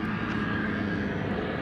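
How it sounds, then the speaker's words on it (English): Steady broadband roar of a Boeing 747 departing Anchorage, a continuous engine rumble with a faint whine, holding even and moderately distant throughout without pauses or voices. "I did say in the Freeview that we'd get at least one 747 departure"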